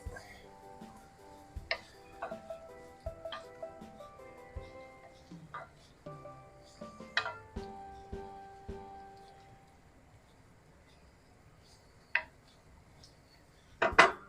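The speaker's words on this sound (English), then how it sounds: "And we're going to stir this all together." Veal and its juices being stirred together in a cooking pot for paprikash, with spoon clinks and scrapes on the pot in an uneven rhythm, close and moderately loud, fading to quiet with a few late knocks.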